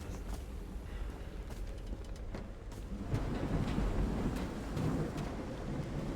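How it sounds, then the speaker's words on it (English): Rolling thunder in the video game Call of the Seas, a steady low rumble that swells and grows louder partway through, with no talking over it. "Now there's thunder and lightning."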